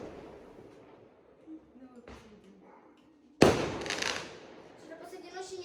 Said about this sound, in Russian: Тоже салют в соседнем дворе буквально.